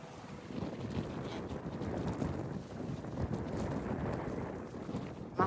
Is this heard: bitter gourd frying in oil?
no